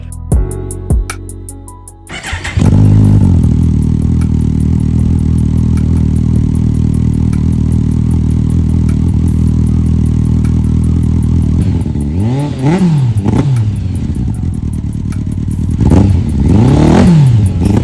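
A 2021 Kawasaki Concours ZG1400 GTR with a titanium Delkevic exhaust starts after some faint clicks, then idles loud and close with a steady rumble, and the throttle is blipped twice near the end.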